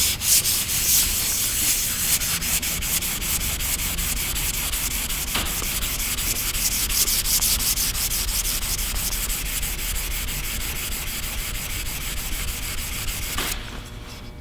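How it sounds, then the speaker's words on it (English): The back of a veneer saw is lapped flat on 600 grit sandpaper, giving a continuous, close, rhythmic scraping rub that runs evenly and then stops abruptly at the end. "Now lap the back flat with some 600 grit sandpaper."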